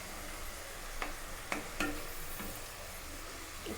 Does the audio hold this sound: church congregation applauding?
no